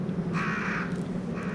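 A crow caws in the video game Biohazard 3 Last Escape: one harsh caw, then a second, shorter call, close and clear over a low, steady ambient hum.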